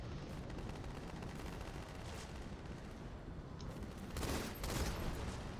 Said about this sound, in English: Where's grenades coming from?